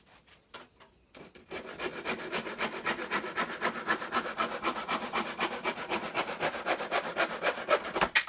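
A hand saw cutting a piece of wood while building a handmade instrument, fast steady back-and-forth rasping strokes, close and loud, after a few soft knocks at the start.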